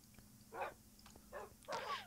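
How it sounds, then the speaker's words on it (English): Puppies whine and yip in a video game, giving three separate short whimpering bursts, with the last the loudest, over a low steady background hum. "feed the puppies that are whining"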